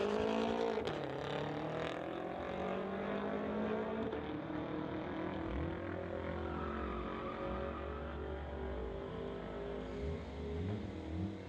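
A Corvette and a BMW, street-legal cars, race at a drag strip, engines revving and shifting with rising and falling tones, heard at moderate distance with no voices.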